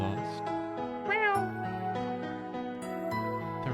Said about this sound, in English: Only meowing could come out